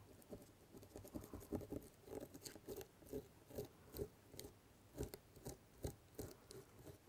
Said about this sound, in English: Again, masking tape off.